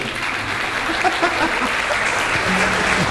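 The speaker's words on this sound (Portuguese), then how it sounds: "Salva de palmas para mim" Audience clapping at a Sesc Sorrindo para o Futuro event, a dense, steady round of applause filling the room for about three seconds.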